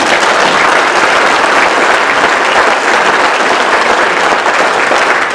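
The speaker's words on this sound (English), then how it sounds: "Round of applause again." Loud, dense applause from a sheriff's forum audience, steady and unbroken throughout with no voices over it.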